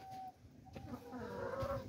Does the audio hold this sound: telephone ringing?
no